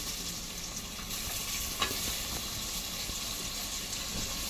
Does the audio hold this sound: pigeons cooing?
no